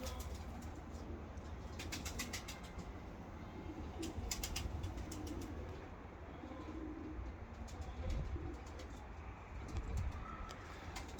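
Pigeons coo softly and repeatedly outdoors at a pigeon loft, over a steady low rumble of background noise.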